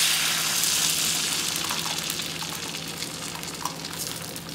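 Oscar Mayer turkey bacon fries in a non-stick pan with a steady, close, even sizzle and crackle and a few small pops, alone with no talk.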